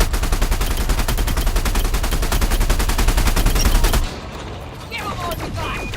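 Rapid ship-mounted weapons fire in Elite: Dangerous, a dense rattling burst of fast repeating shots that runs loud and steady for about four seconds, then stops abruptly, leaving quieter cockpit ambience with faint tones.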